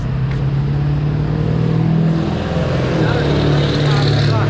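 A loud, deep truck engine rumble drones steadily and close at a car meet, idling and revving slightly, with traffic noise around it.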